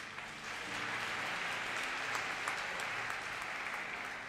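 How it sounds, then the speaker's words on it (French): A church congregation claps during a worship service, a dense, steady wash of applause that rises quickly and holds at an even level throughout. "Acclame Jésus."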